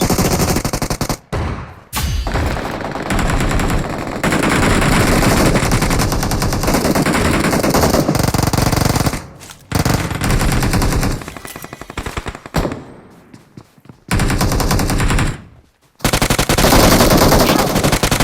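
Automatic gunfire from an online shooter video game, loud and nearly continuous, in long sustained bursts broken by a few brief gaps.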